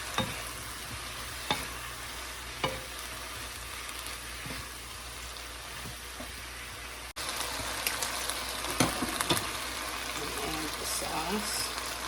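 Meat fries in a pan with soy sauce and garlic, a steady close sizzle with a few sharp utensil knocks. Midway a sudden cut brings a louder, busier sizzle, with faint talking mixed in.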